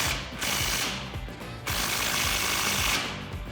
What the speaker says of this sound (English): So I'm going to use a 17mm wrench and a 17mm socket to remove that bolt.